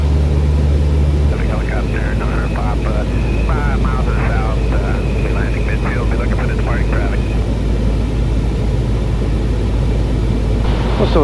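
Steady drone of a light aircraft engine near an Alaskan airfield, a Tri-Pacer in the pattern, loud and continuous, with radio voice chatter over it partway through.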